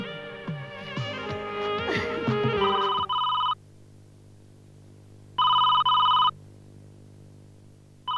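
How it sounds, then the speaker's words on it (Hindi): A telephone rings in two electronic bursts separated by a pause, following a short flurry of musical notes in a Hindi TV serial; no voices are heard. "ये जरूर जय का ही फोन होगा।"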